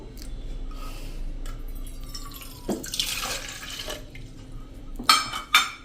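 Water pours and splashes into a bowl, about three-quarters of a cup, trickling then gushing, with a couple of sharp clinks near the end, while making spicy garlic gathiya.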